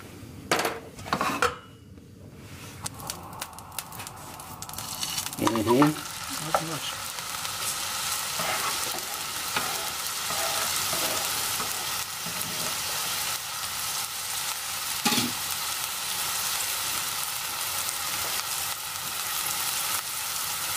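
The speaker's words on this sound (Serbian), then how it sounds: "So to try it, we are going to fry a piece." A piece of homemade sausage fries in a pan with a steady sizzle, mixed with clinks and scrapes of pan and utensils, close and fairly loud.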